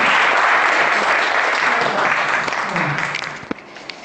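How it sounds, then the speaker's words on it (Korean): Students in a biochemistry class break into dense applause that holds steady, then thins and fades out near the end with a few stray claps. "자, 박수 주세요."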